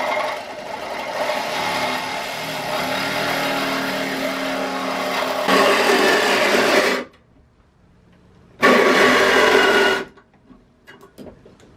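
A power tool cuts off a metal part near the axle of a 1989 Honda CRX during an AWD kit install, a loud grinding whine in two bursts with a short pause between.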